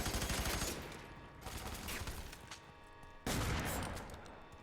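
A powerful gun in Fear 3 fires in dense, rapid bursts, loud and close, with a short lull in the middle before another heavy volley starts abruptly.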